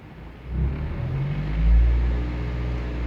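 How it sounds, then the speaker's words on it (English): A Toyota Celica with lean-condition and misfire fault codes raises its revs to around 1500 RPM, giving a low, close engine rumble that swells twice, briefly and alone. "I'm gonna raise the RPMs"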